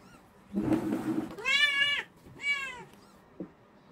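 A mother cat just after giving birth lets out two drawn-out, wavering meows after a rustle, close and fairly loud, followed by a small tap.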